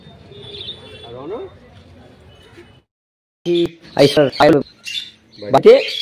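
A pair of Giribaz pigeons, a white male held in hand and a female in a cage, coo and chirp faintly at first; after a short pause, a person talks loudly nearby.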